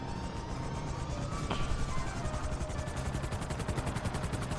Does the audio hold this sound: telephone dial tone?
no